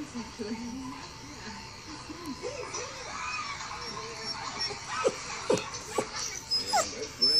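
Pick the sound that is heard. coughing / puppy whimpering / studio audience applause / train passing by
puppy whimpering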